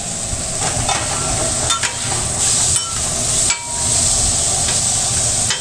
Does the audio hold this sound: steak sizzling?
yes